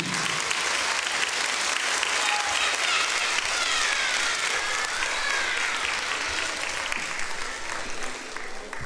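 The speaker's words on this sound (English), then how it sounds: "Can we please give our amazing author another round of applause?" Children's book award event where an audience of teachers and students gives the author a long round of applause, dense, steady clapping with faint cheers, fading slightly at the end.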